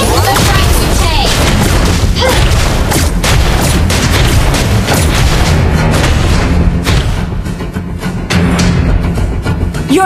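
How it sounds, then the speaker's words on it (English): A turret being destroyed in the mobile game Mobile Legends, heard as loud booming blasts and crashing impacts amid busy battle effects, dense and continuous, with game voices talking over it. "Your team destroyed a turret."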